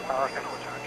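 A Cessna 172's engine drones as power is added on a slow, steep approach with full flaps. The hum swells briefly and stays steady under a voice talking.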